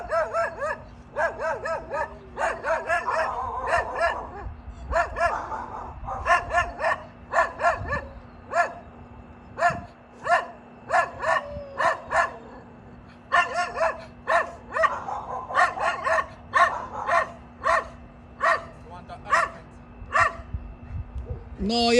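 A dog barks over and over in quick bursts for more than twenty seconds, loud and close, with a steady low hum running underneath the whole time.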